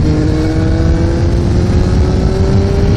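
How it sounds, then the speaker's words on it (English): Suzuki GSXR 1100 motorcycle accelerating hard in third gear, a loud, close engine whine climbing steadily in pitch over a few seconds with heavy wind rush. "This bike is all about acceleration."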